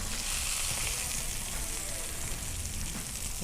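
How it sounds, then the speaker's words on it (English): Bone-in ribeye steaks sizzling on a Flavor Pro grill, a steady close hiss and crackle of fat frying, constant and unbroken throughout. "The steaks have been cooking about 2 minutes, so now we're going to flip them and look at that crust."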